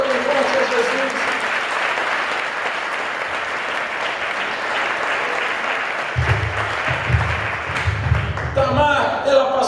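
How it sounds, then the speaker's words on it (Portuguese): A church congregation applauds loudly, a long sustained wash of dense clapping from a large crowd, with music and a voice rising underneath toward the end. "Aplauda bem forte a Jesus."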